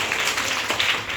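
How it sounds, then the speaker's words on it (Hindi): Schoolchildren clapping together in a classroom during a Hindi lesson, a brief, close patter of many small hands that is fairly steady, with no voice over it. "हाँ शाबाश, ताली बजाइए।"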